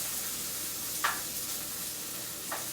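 Onion frying in a pan for a beef chuck rib stew, a steady soft sizzle throughout with two brief stirring scrapes, close and moderately quiet, with no voices.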